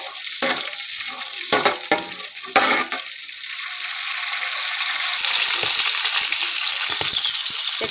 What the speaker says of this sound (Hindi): मटर हमारे पास 200 ग्राम है। 1 मिनट के लिए इसको फ्राई कर लेना है।